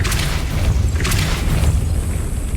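A Depulso spell blast in the Hogwarts Legacy video game sounds as a heavy, rumbling boom with two bright crackling bursts on top, loud and sustained throughout.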